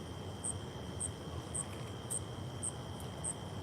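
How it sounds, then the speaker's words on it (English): Crickets chirp at night in short, evenly spaced pulses about twice a second, faint against a quiet hiss. "And you hear the crickets?"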